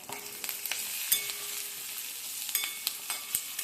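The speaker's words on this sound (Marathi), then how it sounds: "मसाला छान फ्राय करून घेऊया" An onion, garlic and coconut masala with turmeric sizzles steadily in a pan, a close, continuous frying hiss broken by a few light stirring taps.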